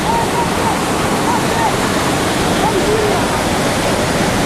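Loud, steady rushing water roars without a pause, a dense wash of noise like a nearby waterfall, with faint voices partly buried beneath it.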